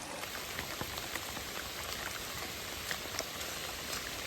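Rain falling in a forest near a waterfall, a dense, even patter of drops heard close by. It stays steady and fairly quiet, with no voices.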